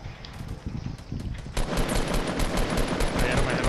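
Rapid automatic gunfire in Fortnite Battle Royale bursts loud and close, building into a sustained dense volley in the second half amid game noise.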